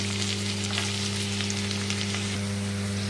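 Onions fry in a pan for a chicken curry with drumsticks, a steady, dense sizzle crackling evenly throughout, close and loud, with a constant low hum beneath it and no one speaking.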